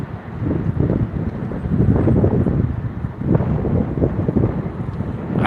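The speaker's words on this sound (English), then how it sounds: "Very windy night here in New York." Strong wind roars in gusts on a windy night in Manhattan, New York, near Times Square, with trees and flags, buffeting the microphone in a continuous loud rumble.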